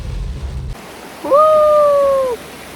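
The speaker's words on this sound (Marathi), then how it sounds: "जसं जसं आपण पुढे चाललो होतो तसं तसं पावसाचं प्रमाण वाढतच चाललं होतं." A steady, loud hiss of heavy rain at Pargad hill fort fills the clip, and a brief whistling tone rises in the middle.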